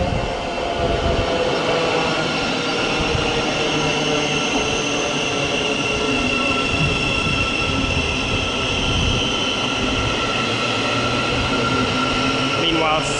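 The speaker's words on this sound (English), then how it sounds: "Thameslink service to Bedford coming into platform 4." A Thameslink Class 700 train pulls into platform 4 at West Hampstead station, making a continuous loud electric hum and rumble with faint wheel squeal, steady from start to end.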